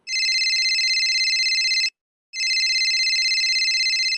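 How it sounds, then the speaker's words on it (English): A mobile phone rings twice with an electronic ringtone: two long, loud, steady tonal bursts separated by a short silence, with nothing else audible. "Suddenly, my phone rang."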